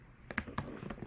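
A few quick keystrokes click on a computer keyboard while entering JavaScript code, a brief, close run of light taps.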